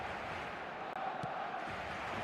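A stadium crowd in the eFootball video game roars as a steady, dense wash of cheering, distant and fairly faint, running continuously throughout.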